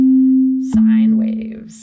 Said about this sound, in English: One is called a sine wave. It's a pure tone